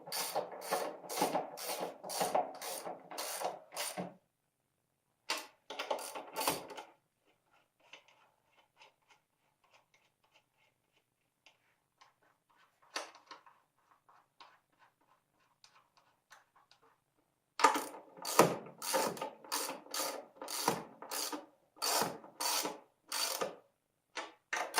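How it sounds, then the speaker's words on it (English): A 14 mm ratchet wrench tightens coilover top nuts on a Nissan 240SX, with two quick rhythmic bursts of close ratcheting clicks separated by quiet handling noises. "grab your 14, tighten down the top"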